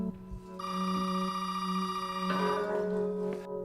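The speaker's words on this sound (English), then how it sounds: "Ethan gets another phone call from Zoe." A telephone rings in the video game Resident Evil 7, a clear continuous electronic bell tone sustained for a few seconds with no talking.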